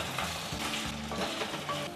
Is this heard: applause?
no